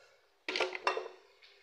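A spoon stirs camel meat bistek in a cooking pot, giving two close, loud metallic scrape-and-clatter bursts a moment apart, then a faint scrape trailing off.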